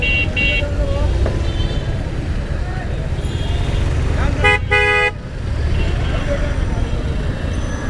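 A heavy traffic jam on the road from Babubazar to Keraniganj in fog: a loud constant engine and road rumble close by, several short horn toots, and one longer blaring horn blast, with a person talking over it.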